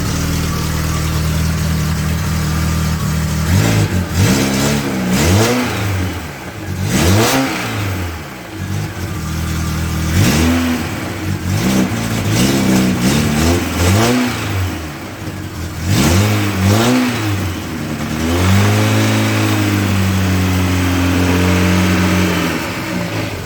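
A car engine running slightly rough is revved repeatedly in close, loud bursts that rise and fall between uneven idle stretches, heard alone at night while a knock is being chased.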